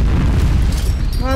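A bomb blast in the Free Fire shooter game lands as a loud, dense low boom filling the whole short moment, with a faint tonal tail near the end.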